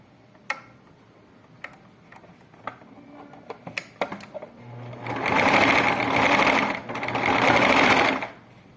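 A sewing machine runs in a steady, loud burst of stitching through the fabric of a pink cloth toy pig. Scattered small clicks and handling taps come first, then several seconds of continuous machine whirring close by.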